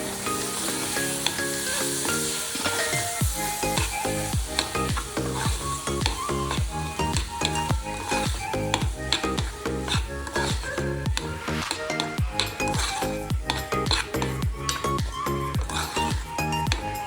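Soaked rice and dal, with ghee and turmeric, are stirred in a hot pan for dal khichdi: loud continuous sizzling and frying with a rapid, rhythmic series of spoon strokes against the metal, close and unbroken.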